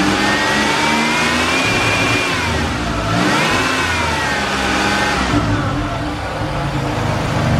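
A 1990 Buick Reatta with its 3800 V6 running close by, a loud, steady engine note rising and falling through a couple of revs with no one talking.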